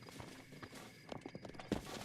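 Horse hooves clip-clop in Zelda: Breath of the Wild, a series of soft irregular hoofbeats near and fairly quiet over a faint steady background hum.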